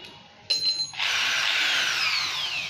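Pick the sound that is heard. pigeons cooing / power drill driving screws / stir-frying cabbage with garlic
power drill driving screws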